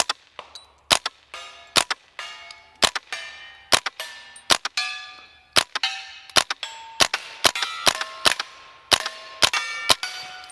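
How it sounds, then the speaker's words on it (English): A KRISS DMK 22 rifle fires CCI subsonic hollow point rounds in a series of about twenty sharp, fairly quiet cracks with metallic ringing, spaced irregularly and unaccompanied by talk. "Now let's go with some subsonics. These are CCI subsonic hollow points."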